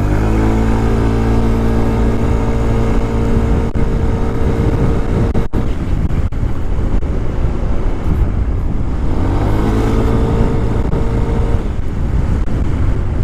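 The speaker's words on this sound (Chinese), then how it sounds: "好，我现在做个加速。" An SYM FNX125 scooter accelerating on the road, the engine note climbing steadily in pitch twice with a brief dip between, loud and close with wind buffeting the microphone, no talking.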